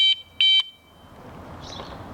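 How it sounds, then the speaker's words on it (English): An electric bike horn gives two short, sharp electronic beeps close by, the second slightly longer, then a faint hiss of room noise. "This is the honk."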